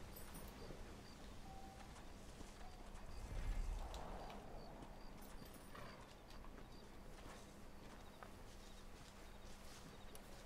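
Horse hooves clip-clop in a steady, faint rhythm as a horse travels through Mexico in Red Dead Redemption, with a soft background hum and no talking.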